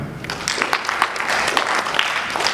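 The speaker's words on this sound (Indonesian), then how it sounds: "Tepuk tangan Bapak" An audience at a religious moderation outreach meeting applauds, a loose burst of hand clapping that builds after a quiet start and carries on steadily.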